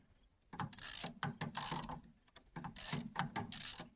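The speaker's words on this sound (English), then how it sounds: "we'll turn the 4 bolts out for the hydraulic cylinder here." A ratchet clicks rapidly in bursts while backing out the four bolts on a hydraulic cylinder of a Minneapolis Moline tractor hydraulic unit, close and crisp with brief pauses between strokes.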